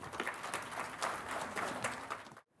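Applause from a conference audience after a keynote speech at the Global Confluence Summit 2025 at MAHE, Bengaluru: a dense, steady wash of clapping that stops abruptly near the end.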